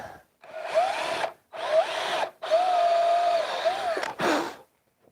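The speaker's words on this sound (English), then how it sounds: "make sure I can actually get it in the right place by putting a sort of like a guide hole" A power drill bores a guide hole in wood for a carved gargoyle letterbox, whirring in several close bursts with brief pauses between them. The motor pitch rises and falls as the bit bites.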